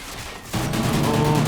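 A burst of rapid gunfire erupts in a Call of Duty match, loud and sustained after a brief quieter lead-in, filling the rest of the moment.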